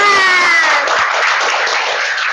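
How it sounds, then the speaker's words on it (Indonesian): A company improvement celebration audience breaks into loud, dense applause with sustained clapping throughout, and a voice is briefly heard over it at the start. "Tepuk tangan semuanya."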